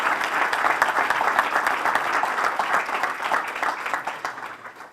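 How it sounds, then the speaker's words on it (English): A crowd gives sustained applause for sculptor Toby Mendez at an outdoor park groundbreaking ceremony, a steady wash of many hands clapping that holds loud throughout and tapers slightly toward the end. "Let's give Toby Mendez a round of applause."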